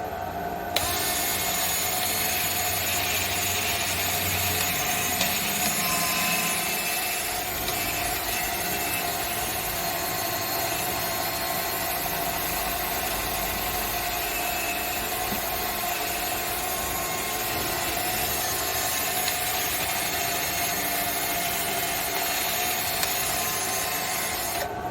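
Sanding a live edge maple bowl: a steady, close abrasive hiss runs without a break for the whole stretch, with a low motor hum underneath and no talking.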